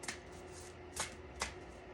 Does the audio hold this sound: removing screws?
no